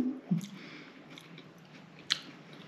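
Close chewing of a Bastards Burgers Cloudberry BBQ burger in Sweden, with a few soft wet bites and squishy mastication sounds, one sharper crunch near the end, no talking.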